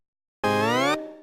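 A short bright synth blip from a song recreation, a single harmonic-rich tone sliding slightly upward for about half a second. Its tail fades, and another sound starts faintly at the end.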